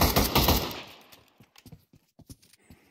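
Gunfire in the VR shooter Pavlov VR: a loud, rapid automatic burst in the first second, fading into a string of sharp, quieter clicks and taps.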